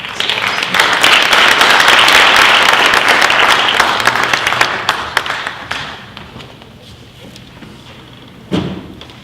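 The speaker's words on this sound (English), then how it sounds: "Let's give a round of applause to the Canter." Conference audience at an international construction plenary session applauds a keynote speaker: a loud, dense burst of clapping that gradually thins and fades out, followed by a single thud near the end.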